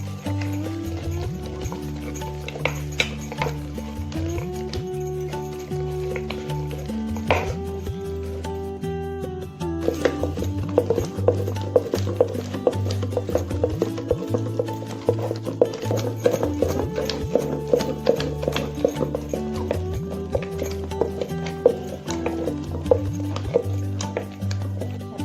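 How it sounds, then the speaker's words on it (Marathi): Cooked rice being crushed finely for dudhkheer, a traditional Marathi sweet, heard as steady rhythmic tapping and pounding that repeats throughout, over a continuous background hum. "आता आपण याला ह्याच्याने बारीक करून घेऊया।"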